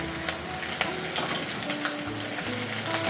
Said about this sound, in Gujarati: આપણા ગુંદા હવે સતળાઈ ગયા છે જો આ રીતના આપણે આને સાતળી લેવાના છે